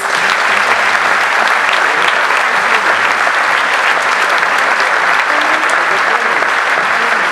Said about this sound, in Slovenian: ampak jim lahko damo en aplavz.